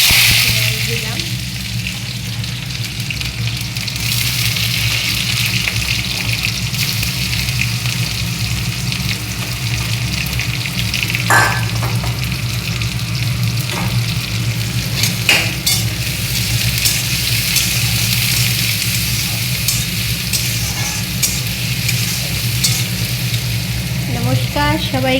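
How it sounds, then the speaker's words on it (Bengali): Garam masala tempering with onion and garlic sizzling in hot oil for khichuri, a loud continuous frying hiss up close with occasional utensil clinks and stirring. "এই যে একটু গরম মশলার ফোড়ন দিলাম"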